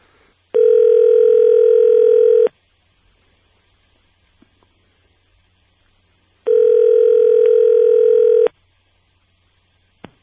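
A telephone line gives two long, steady ringback tones about two seconds each, separated by several seconds of near silence, loud and clear with no talking over them.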